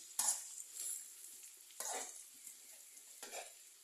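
Chili being stir-fried in a pan for a Thai stir-fry with garlic: quiet sizzle broken by three or four brisk scraping strokes of a spatula at a slow rhythm, no voices.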